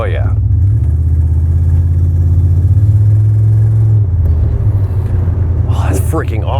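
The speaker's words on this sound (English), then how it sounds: "just heating the brakes up because I want to make sure they burn in good" A GMT400 truck on the road with its brakes being heated to burn them in, giving a steady, loud, low engine rumble that shifts midway, with voices faintly over it near the end.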